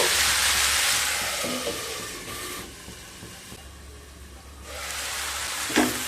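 Boiled taro stolons sautéing with spices in a pan over low to medium heat, a soft, steady hissing sizzle that swells and eases with occasional stirring, close and without talk.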